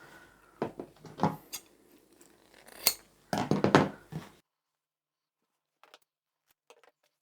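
Scissors snip through two stacked pieces of fabric being cut into strips for fitted bed sheet straps, a string of close, crisp cuts over about four seconds, then near silence with a couple of faint taps.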